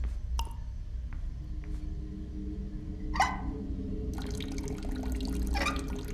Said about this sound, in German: Hier tropft's irgendwie von der Decke oder so.